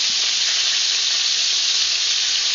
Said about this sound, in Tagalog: Just fry it on a low heat for 10 minutes.